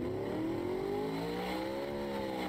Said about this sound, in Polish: Dosyć dziwnie brzmi jak jakaś V8 z Forda